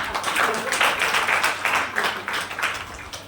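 Audience applause at a talk in Nizamabad, a dense, steady wash of many hands clapping together that stays loud and even across the whole moment with no voices over it.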